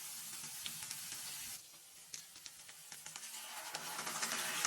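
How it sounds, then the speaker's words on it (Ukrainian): Onion, carrot and eggplant sizzle as they fry in a multicooker, a steady close hiss with small crackles and spits throughout, briefly quieter midway. "Вже обсмажується цибуля, морква і баклажан."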